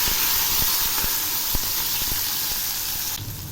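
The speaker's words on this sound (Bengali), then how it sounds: "এবার আমি ওই তেলে সামান্য একটু কালো জিরে ফোড়ন দিলাম, আর দিচ্ছি ঝুরি করা একটা পেঁয়াজ।" Chopped onion dropped into hot oil with nigella seeds gives a steady, loud hiss and sizzle with a few faint clicks, cutting off near the end.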